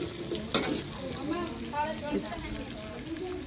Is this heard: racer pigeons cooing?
no